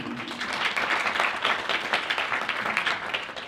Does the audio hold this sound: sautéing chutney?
no